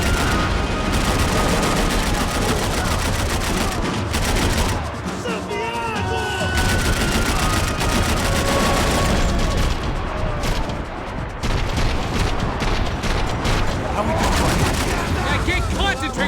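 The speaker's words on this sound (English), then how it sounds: "I can't concentrate with bullets whizzing past my head." Dense gunfire with whizzing bullets in the shooter video game Max Payne 3, in a swamp firefight: loud rapid bursts and booms throughout, briefly easing midway, with voices talking over parts of it.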